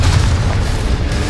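A Confringo spell explosion in Hogwarts Legacy, a short, loud, low booming blast with rumble, heard alone.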